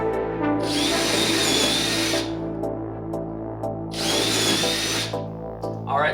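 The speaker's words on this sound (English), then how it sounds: "Time to drill the holes." Power drill boring holes into a DIY front splitter for a Honda Civic, two loud sustained bursts of drilling about two seconds each with a steady motor hum between them, no talking.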